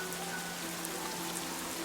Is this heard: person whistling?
no